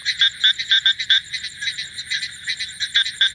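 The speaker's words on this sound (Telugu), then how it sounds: "అందుకే కప్పల సౌండ్ బాగా వస్తుంది" Frogs croak in a rapid, pulsing chorus during a light village drizzle, several callers overlapping in steady rhythmic bursts that sound close and fairly loud, with no voices.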